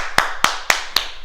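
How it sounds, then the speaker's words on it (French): Four sharp hand claps, evenly spaced and fairly close, from a class applauding itself after a salute. No one speaks, and it is quiet between claps. "on s'applaudit"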